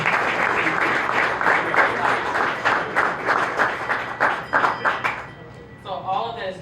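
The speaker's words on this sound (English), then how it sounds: "So let's make sure we give her a happy and healthy hand clap." An audience at a community event claps in a loose, uneven burst of hand claps, tapering off as a voice begins speaking near the end.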